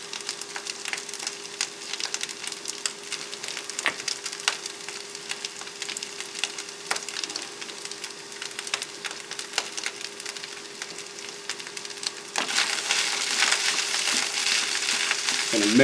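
Shrimp fried rice being stirred in a pan inside a tent, with sesame oil, salt and pepper added, giving a steady soft sizzle, scattered scraping clicks of the utensil, and a louder frying hiss near the end.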